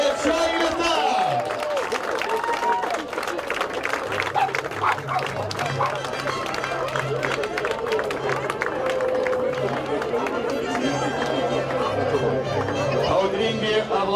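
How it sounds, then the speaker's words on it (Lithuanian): Crowd applause for the Braškės team at a water festival in Plungė, sustained clapping and cheering from a large outdoor audience, with a dog barking repeatedly nearby and voices mixed in. "Audringi aplodismentam Braškėm"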